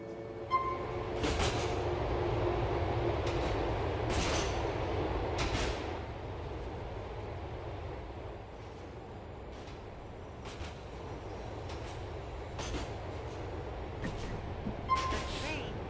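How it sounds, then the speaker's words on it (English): A subway train on the A line in the video game GTA IV approaches a station with a steady low rumble and several sharp metallic clacks, while a voice speaks over it. "The train is approaching."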